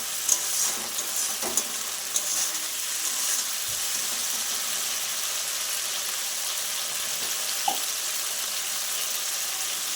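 A spice paste, thinned with a little water rinsed from the spice bowl, fries in a pan with a steady close sizzle and bubbling, broken by a few light scrapes of stirring, and no talk.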